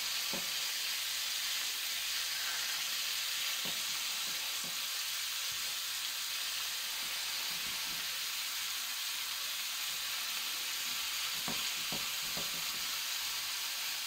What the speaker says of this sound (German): das müssen wir scharf anbraten